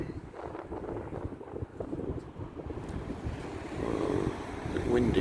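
Gusty wind buffets the microphone at Cumberland Lock in Bristol, a rumbling low roar that swells and dips, growing stronger toward the end, with no voices.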